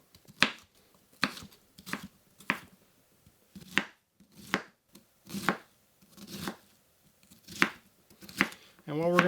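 A kitchen knife chops food halves into smaller pieces on a board, about ten crisp, evenly spaced cuts close by with short pauses between, no talking.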